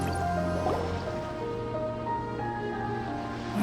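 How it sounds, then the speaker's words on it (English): Water draining away in Genshin Impact: steady dripping and liquid gurgles over sustained musical tones. "seems that the water level has suddenly decreased"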